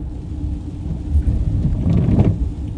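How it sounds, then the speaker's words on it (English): Rain and thunder outdoors on a street in Lakeland, Florida: steady near rainfall with low rolling rumbles that swell midway and peak toward the end, with no voices. "Hopefully this rain stops."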